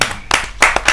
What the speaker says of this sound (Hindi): जोरदार तालियों से आमंत्रित कीजिए